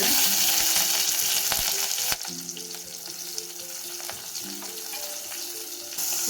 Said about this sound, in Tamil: இப்போ கருவேப்பிலை போட்டுக்கலாங்க